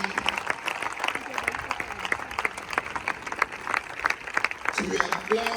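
A crowd applauds at a funeral service in the Democratic Republic of Congo, with steady rhythmic clapping running throughout while someone speaks loudly over it.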